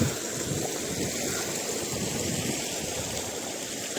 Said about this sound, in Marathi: तरी एवढं पाणी निघतंच आहे